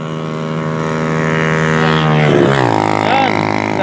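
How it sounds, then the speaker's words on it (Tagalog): Loud motorcycle engine running close by on a street, a steady droning hum with strong harmonics that shifts pitch midway as the bike revs and moves off. "Yan, daming ingay ng motor."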